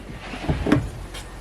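A drawer slides open inside a fitted cabinet housing an Engel 95-litre upright fridge-freezer, a brief soft rumbling glide with a light knock, close and quiet.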